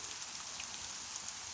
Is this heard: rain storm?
yes